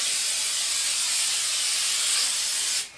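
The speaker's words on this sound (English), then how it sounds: "I'm using this pink sheen spray." Pink sheen spray hisses steadily onto curly hair in one continuous close blast lasting nearly three seconds, then cuts off abruptly.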